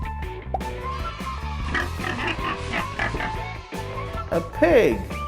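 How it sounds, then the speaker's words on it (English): A short pig grunt with a wavering, nasal oink near the end, set against a steady, busy toy-like musical background. "A pig."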